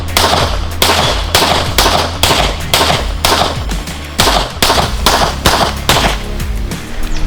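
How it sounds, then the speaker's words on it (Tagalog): Pistol shots crack at an outdoor shooting range, with about a dozen loud, sharp reports fired in quick, fairly regular succession over several seconds, each followed by a short ringing decay. "Firing!"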